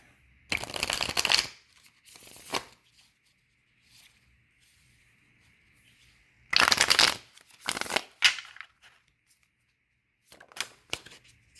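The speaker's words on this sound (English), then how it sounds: "let's go ahead and pull some of these cards out" Tarot cards being shuffled and pulled from a deck: several close, crisp bursts of riffling and sliding card noise separated by quiet pauses, with no talking.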